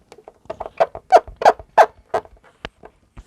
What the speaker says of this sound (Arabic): تعالوا كده اسمعكم برضو بيزيق، يعني من لمعته بيزيق